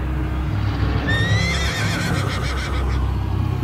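Several horses neigh in a startled whinny, a shrill call rising and falling about a second in, set against a steady low rumble as a sound effect in a Bengali audio drama of Dracula's Guest.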